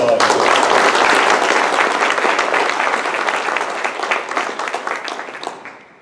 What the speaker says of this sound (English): I like to extend a round of applause for all the coaches in here